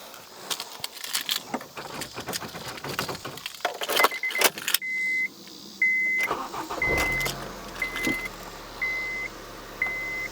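A car with an SR20 engine cranks and catches, then settles into a steady low idle, with a repeating chime beeping at regular intervals over the running motor.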